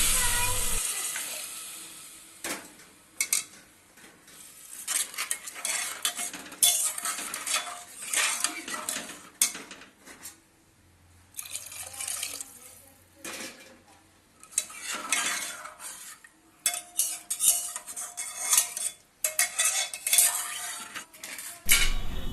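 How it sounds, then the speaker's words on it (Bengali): Khichuri is sautéed in a pot, loud metal spoon scrapes and clanks coming in bursts against the vessel over a faint sizzle, with a quieter pause midway. "তারপরে অল্প কিছুক্ষণ সময় কষিয়ে নেব এটাকে নিয়ে"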